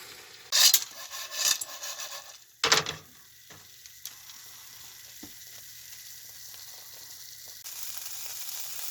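Salted pine nuts in a hot pan as water cooks off them: a few loud crackling bursts of sizzle and stirring at first, then a quieter, steady hiss with an occasional light clink.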